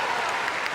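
A crowd applauds at the Crufts 2014 international invitation agility jumping event for large dogs, a dense, continuous burst of clapping filling the hall.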